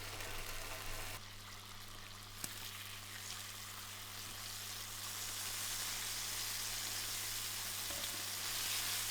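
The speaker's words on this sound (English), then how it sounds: "We want to add 4 rashers of streaky bacon and cook for about 5 to 6 minutes, turning once until browned and crispy." Four rashers of streaky bacon fry in oil in a frying pan, a soft, steady sizzle and crackle that builds slightly, with a faint low hum beneath it.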